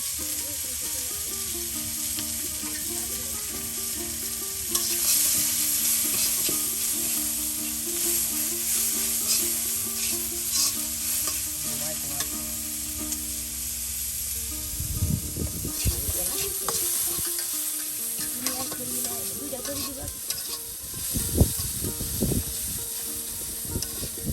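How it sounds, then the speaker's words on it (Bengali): Chopped onion and garlic fry together in a pan in a Bangladeshi village kitchen, a steady soft sizzle with occasional scraping stir strokes near the end, heard fairly quietly with faint background tones. "এখন পেঁয়াজ কুচি রসুন কুচি সব একসাথে দিয়ে দেওয়া হচ্ছে"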